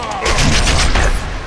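Loud, dense gunfire from the Deadpool video game roars almost without a break through the whole short stretch, with no speech over it.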